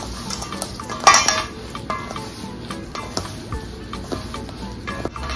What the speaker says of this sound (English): Go ahead and mix your hamburger meat.